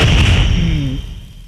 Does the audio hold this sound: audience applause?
no